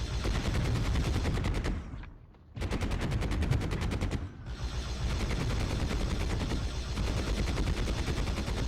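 Rapid automatic gunfire from Warhammer 40,000: Fire Warrior, a dense rattling stream of shots with two brief pauses, loud and continuous otherwise.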